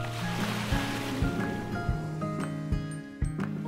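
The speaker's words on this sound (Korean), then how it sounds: "이제 보트가 출발했습니다." A tour boat sets out over sea waves on a breezy, sunny day, with a rough rushing wash of water and wind buffeting the microphone, plus a repeated low rhythmic engine knock and several sharp slaps.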